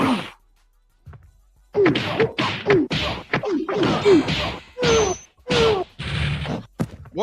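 Hits and punches land in a round of the Wu-Tang: Shaolin Style fighting game, a rapid string of loud thwacks and smashing impacts with whooshes, close and dense after a brief quiet start.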